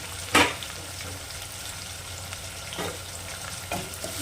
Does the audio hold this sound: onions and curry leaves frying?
yes